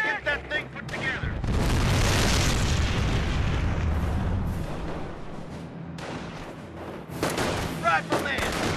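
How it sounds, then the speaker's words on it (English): Rifle gunfire and explosions in the World War II strategy game Company of Heroes with the American army: dense, sustained booms and crackling shots fill the scene, and voices call out over the battle. "Rifleman! Fire your gun!"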